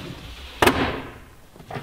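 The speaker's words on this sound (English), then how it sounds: "you can slide it to the back or the front or take it out should you wish" A storage drawer with Teflon slides in a single-cab touring fitout slides shut with one sharp close bang, then a fading rumble over steady room hiss.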